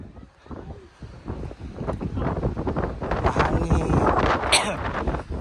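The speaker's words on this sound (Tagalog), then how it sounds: "Mahangin dito guys" Gusty wind blows hard at the Banff Gondola summit in Alberta, Canada, rushing and buffeting the microphone in rising surges, with a person talking under the roar.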